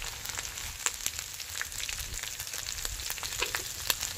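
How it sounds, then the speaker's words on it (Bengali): Onions frying with ginger-garlic paste, green chilli and bay leaf, a steady crackling sizzle with scattered sharp pops, close and moderately loud, no voices. "এবার আমরা পেঁয়াজটাকে লাল করে নেব।"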